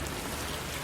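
Steady rain falls in a dark, stormy night setting with trees, a soft continuous patter and hiss filling the short moment, fairly faint and even with no talk.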